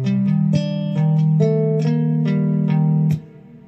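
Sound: guitar riff played slowly

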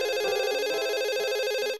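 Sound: mobile phone ringing

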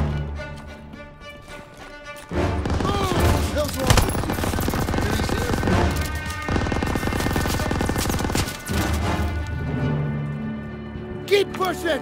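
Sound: enemy machine gun fire in video game Call of Duty: WWII

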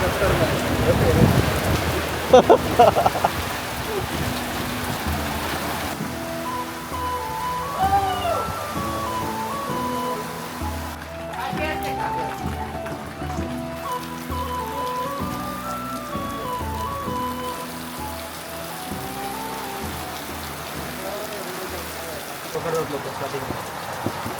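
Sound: heavy rain falling

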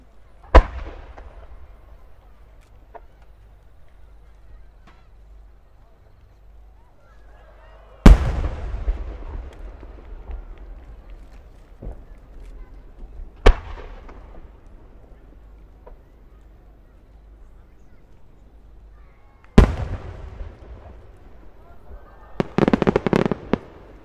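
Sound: fireworks exploding

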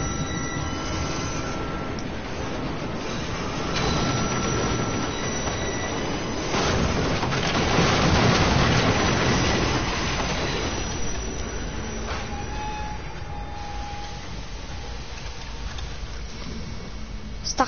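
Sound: metro train passing with wheels squealing on the rails

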